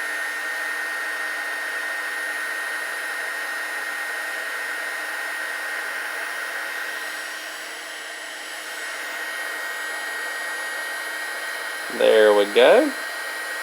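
A heat gun blows a steady, even whir while shrinking a Haisstronica heat shrink connector over two crimped wires, running without a break until a man's brief remark near the end.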